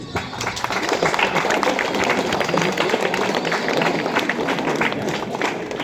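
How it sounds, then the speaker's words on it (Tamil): Students at a government arts college in Reddiyarchatram get dense, continuous applause from an audience. The clapping is close and steady, with no break for about six seconds. "சரி அவங்களுக்கு ஒரு கைதட்டு"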